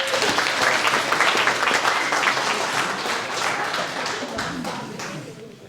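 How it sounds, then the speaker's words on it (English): Guests at a wedding reception break into a round of applause during the speeches, a thick burst of clapping that starts loud and slowly thins and fades toward the end. "Please, can you give him a round of applause?"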